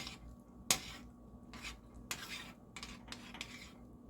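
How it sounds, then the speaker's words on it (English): A spoon clinks and scrapes around a pot of vegan broccoli cheese soup made with nutritional yeast and garlic, a sharp metal knock followed by several shorter scraping strokes at close range, with no talking. "And let's give this a stir."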